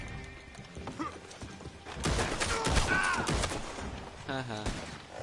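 Gunshots in the video game Red Dead Online, sharp cracks mixed with horse hoofbeats and a whinny, fairly near amid busy game sound.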